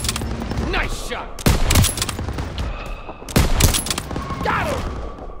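Sustained gunfire in Call of Duty WWII, a World War II shooter, with rapid fusillades and two heavy bursts over continuous battle noise, loud and close, with shouting voices under the shots.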